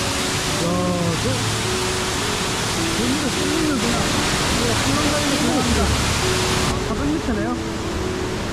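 Towangseong waterfall at Seoraksan on a rainy hike roars as a constant, loud broadband rush of falling water, with people talking over it throughout.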